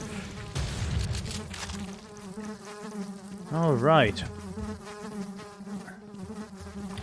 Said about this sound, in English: Those flies are a bit loud, aren't they?